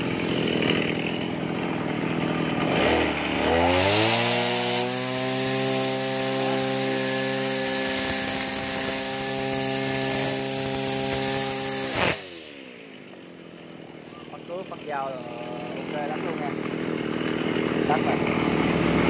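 A Mitsubishi TL231 brush cutter with a detachable head revs up from idle into a loud, steady high-pitched whine, holds there for several seconds, then drops sharply back to a low idle.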